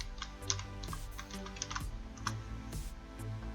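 Ctrl+D pressed on a computer keyboard while duplicating an object in 3D software, amid a run of crisp, close key clicks and taps, irregular in rhythm, with no voice over them.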